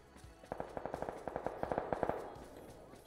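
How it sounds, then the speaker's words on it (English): Rapid automatic gunfire in the PUBG video game, a fast burst of a dozen or more sharp cracks at a moderate distance that fades at the end. "And now I'm running towards the gunfire,"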